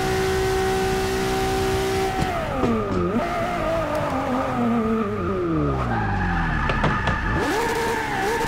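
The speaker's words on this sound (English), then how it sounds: "Give it a little burnout here." A LaFerrari in a racing video game does a burnout, its engine revving hard through downshifts while the tires squeal steadily, loud and continuous with no talk over it.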